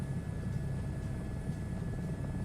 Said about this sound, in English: let the gentle hum of the helicopter